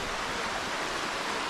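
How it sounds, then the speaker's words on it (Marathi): Steady broadband wash of sea waves along the shore at Dapoli on a quiet off-season day, continuous and fairly soft with no distinct breaks, alone without voices. "समुद्र आहे बघा या ठिकाणी."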